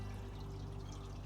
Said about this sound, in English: let me go turn the water spigot on